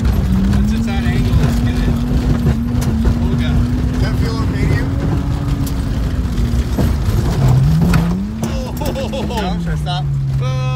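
A beater BMW E36 drift car slides through tight figure eights on dirt, its engine droning steadily with the pitch rising and falling through each turn, while excited voices talk over it.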